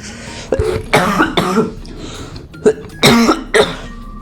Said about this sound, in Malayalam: ചുമച്ച് ചാകും ഗൈസ്